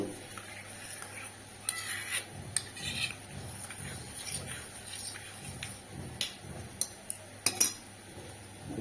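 A spoon stirring a pumpkin mixture with water in a bowl: repeated clinks and scrapes of metal against the dish in an irregular rhythm, close and moderately quiet over a steady background hum.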